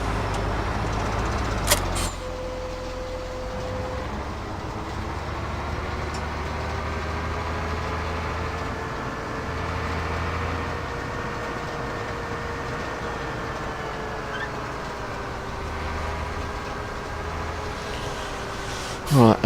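A tractor engine idles and drones steadily in Farming Simulator 2017, a low continuous hum with slowly shifting pitch and a couple of short clicks at the start and end.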